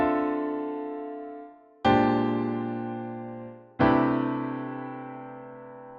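Three sustained jazz chords struck one after another about two seconds apart, each ringing out and decaying, outlining a backdoor substitution; rich harmonic chords played alone with no talking.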